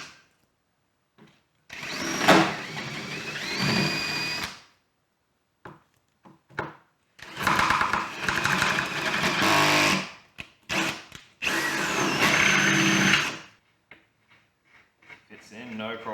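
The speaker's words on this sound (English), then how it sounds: "I'm just going to run a drill through it and just clean up those holes so they're a bit bigger" A power drill bores out and enlarges bolt holes in the wood of a new workbench, running in several bursts of a few seconds each, loud and close, with quiet gaps between.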